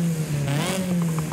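A Toyota MR2 SW20 twin-cam engine in Forza Horizon 5 revs up and holds a steady mid-pitched drone for a moment, close and loud, with no talking.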